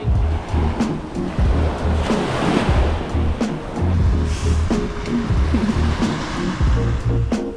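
Ocean waves break and wash up on a Japanese shore in a continuous, loud, rolling surge, with gusts of wind buffeting the microphone.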